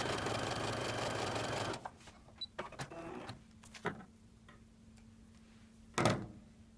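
A sewing machine stitches fabric for a quilt block, running in a loud, steady whir for just under two seconds before stopping, followed by scattered light clicks and a faint low hum.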